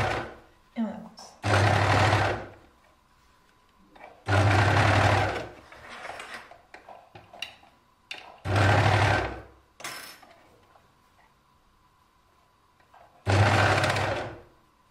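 A sewing machine stitching fabric for a sarouel in four loud, close bursts of rapid mechanical whirring, each about a second or two long, separated by pauses with handling sounds and someone talking.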